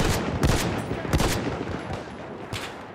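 Rapid bursts of video game gunfire from behind the players, several loud volleys with short gaps between them over a steady background.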